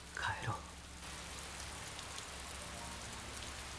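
Steady rain falls throughout as a game sound effect, a soft continuous hiss that follows a short, brief vocal-like tone at the start.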